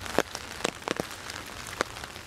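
Rain falls outdoors onto nearby surfaces, a steady soft patter with a few louder close drops striking irregularly.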